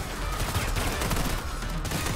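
Dense, continuous video game gunfire, a sustained rattle of rapid shots filling the whole stretch, loud and unbroken.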